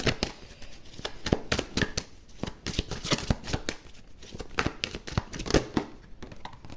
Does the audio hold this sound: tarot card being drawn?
yes